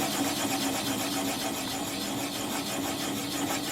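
Wood lathe motor spinning a bowl blank at low speed, around 200 rpm, a steady continuous mechanical hum and whir with no pauses, moderately loud and close.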